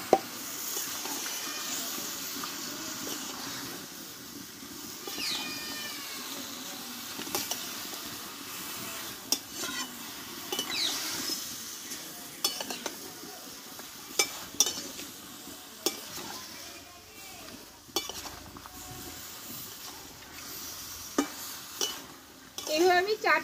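Chopped tomatoes with minced ginger and turmeric powder sauté in a pan, with a continuous sizzle under repeated scraping and clinking stir strokes from a utensil against the pan, steady and close for the whole stretch, with no talking.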